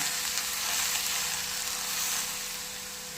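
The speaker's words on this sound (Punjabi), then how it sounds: "ਤੇਲ ਸਾਡਾ ਗਰਮ ਹੋ ਗਿਆ ਹੁਣ ਪਾ ਦਿੰਦੇ ਹਾਂ ਅਸੀਂ ਕਰਕੇ ਇਹ ਪਰ ਅਚਾਰ ਦੇ ਦਿੱਤਾ" Pickle and chutney mixture sizzles in hot oil, a dense, steady frying hiss close up that fades slightly toward the end, with no talking.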